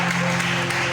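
A church congregation applauds in praise of God, a dense, loud, steady wash of clapping filling the whole moment.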